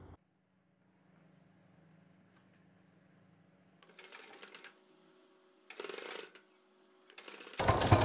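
A sewing machine fitted with a single foot runs in short bursts while stitching lace and a strip together onto a neck design, its quiet mechanical whir stopping and starting between runs.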